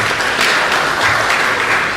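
A lecture-hall audience at a university registry talk gives a round of applause, a continuous wash of many hands clapping close and fairly loud for a couple of seconds.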